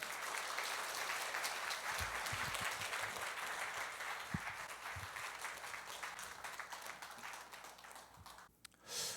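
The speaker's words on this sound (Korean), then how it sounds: "우리 박수로 환영하겠습니다" A church congregation claps in welcome, the applause broad and sustained but fairly quiet, thinning out and stopping near the end.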